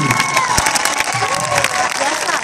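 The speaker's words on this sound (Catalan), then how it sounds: "que aixequem les mans i us aplaudiu a vosaltres, sisplau" A crowd at a children's dance group performance for a TV charity marathon applauds and cheers loudly, with clapping, whoops and children's shouts in a short burst.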